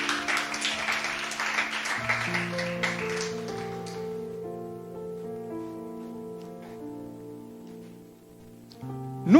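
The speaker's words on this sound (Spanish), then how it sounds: "¿Por qué no da un fuerte aplauso?" A church congregation applauds with a burst of dense clapping that fades after a few seconds, leaving sustained keyboard or organ chords ringing on alone.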